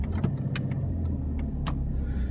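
A car engine hums steadily and close up as the vehicle moves off from a stop, with a few light clicks and ticks over the low engine drone and no talking.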